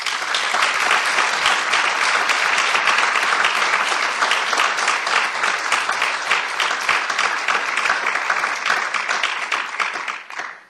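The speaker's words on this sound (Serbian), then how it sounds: "zato jedan veliki aplauz za sve naše učesnike" A large audience gives a big round of applause for the participants of an oratory competition in Novi Sad held in honour of Zoran Đinđić. Dense, loud clapping fills the hall without a break for about ten seconds, then tapers off quickly at the end.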